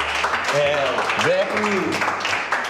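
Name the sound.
applause for opening the hospital's first business room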